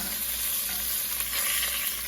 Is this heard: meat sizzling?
yes